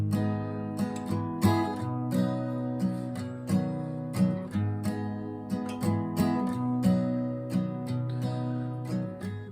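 A guitar plays the intro lick of a song: plucked notes ringing over sustained lower tones, played up close and alone without any talking.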